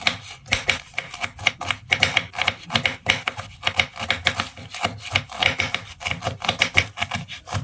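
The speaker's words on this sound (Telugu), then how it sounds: "ఇప్పుడు ఫస్ట్గా దొండకాయలని కట్ చేసుకుందాం ఇలా పొడవుగా స్లైసెస్ లాగా కట్ చేసుకోవాలి" A knife slices ivy gourds lengthwise into long strips, giving a quick, steady series of close, crisp cutting taps with no talking.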